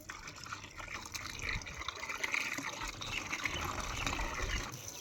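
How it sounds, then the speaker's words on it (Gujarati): Dirty water being poured out, a soft, continuous splashing trickle with a few drips, fairly quiet and close, with no voices over it. "કેમ ખાલી કરી નાખું મેલું પાણી?"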